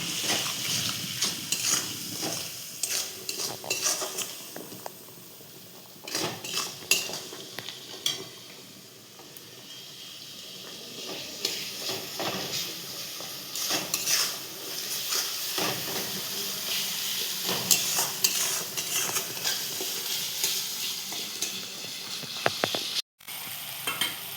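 Salted pabda fish curry sautés in a pan, with a steady sizzle and hiss and frequent spoon scrapes and stirs that come and go.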